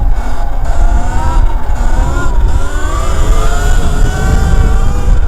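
72V 79BIKE Falcon Pro electric bike doing an uphill wheelie, with a loud, close motor whine that climbs in pitch over rushing wind noise and steady rumble.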